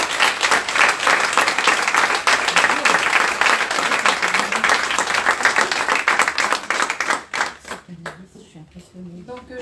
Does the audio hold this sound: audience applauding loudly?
yes